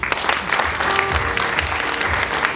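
An audience at an anniversary celebration in a hotel function room applauds, with dense, steady clapping from many hands filling the whole moment and no pause or speech over it.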